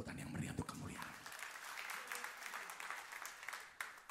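A church congregation claps together in praise, a fairly faint rattle of many hands that swells and continues throughout, with voices mixed in.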